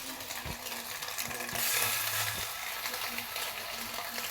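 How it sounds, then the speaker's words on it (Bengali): Stuffed pieces fry gently in a pan with a soft, continuous sizzle. Several sharp clinks and scrapes of a utensil against the pan sound close by, and a louder burst of hiss swells briefly midway. "এগুলোকে আস্তে করে একটু ভেজে নেব।"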